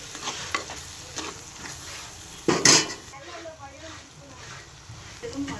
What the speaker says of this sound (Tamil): மிளகுத்தூள் சேர்த்து ஒரு கிளறு கிளறி விடுவோம்